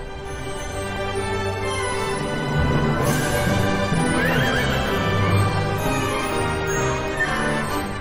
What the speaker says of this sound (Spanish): esta es una yeguita angloárabe